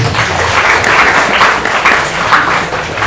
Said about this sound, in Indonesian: Beri tepuk tangan yang berian